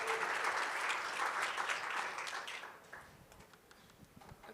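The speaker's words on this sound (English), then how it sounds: "All right, Miriam and Florian from Meerkat, let's give them a warm round of applause." A conference crowd at Devcon SEA applauds speakers, dense, sustained clapping for about two and a half seconds that then quickly fades into a few sparse claps and room noise.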